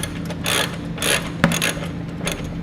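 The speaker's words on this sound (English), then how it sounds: "we're going to be using a 3/4" wrench and socket to snug those up." A 3/4-inch ratchet wrench and socket snug up 1/2-inch base plate hardware on a 2009 Subaru Forester, giving close bursts of rapid metallic ratchet clicking in several strokes, with a sharp clank midway.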